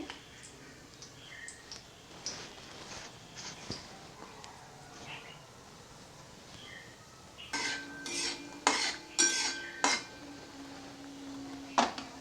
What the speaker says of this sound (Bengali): দুটো দালচিনি এবং দুটো এলাচ দিয়ে এটা কয়েক সেকেন্ড আমি নাড়াচাড়া করব